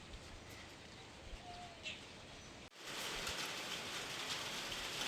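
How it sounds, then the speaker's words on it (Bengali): Light rain just beginning to fall outdoors near a garden, a soft steady patter on surfaces that grows noticeably denser partway through, with faint bird calls in the background. "সবে শুরু হলো বৃষ্টি"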